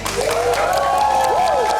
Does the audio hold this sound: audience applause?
yes